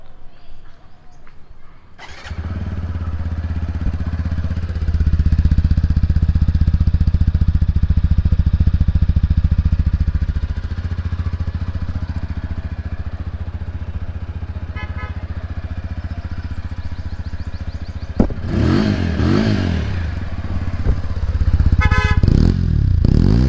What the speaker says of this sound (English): let me show you the exhaust note